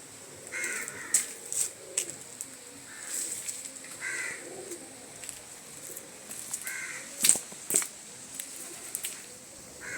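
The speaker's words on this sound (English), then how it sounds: "The sound of the black crows." Crows caw in short scattered bursts, a few calls at a time, over a quiet hiss of open-air background at Fort Jesus in Mombasa, Kenya.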